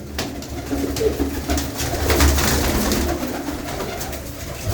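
Pigeons at a village pigeon keeper's loft, a breeding stock, coo in steady low rolling calls, several birds overlapping closely, with no voices.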